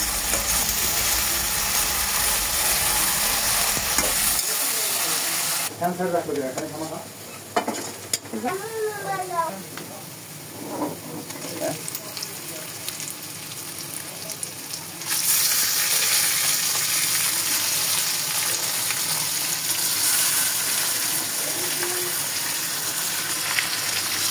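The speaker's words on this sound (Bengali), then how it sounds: "পেঁয়াজটা ভালো করে ভেজে নিয়ে এরপর মাংসটা ম্যারিনেট করা মাংসটা দিয়ে দেওয়া হবে" Marinated chicken added to well-fried onions sizzles loudly and steadily in a pan, with stirring scrapes and a brief watery gush partway through, and a voice speaking softly in the middle.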